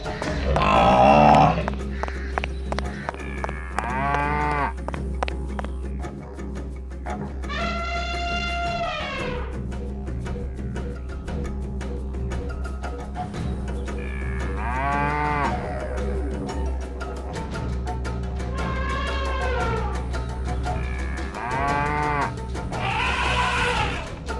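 Repeated animated cow moos at intervals over a steady low rumble, some deep and drawn out, others higher and bleat-like, moderately close, as a cow flees bulls.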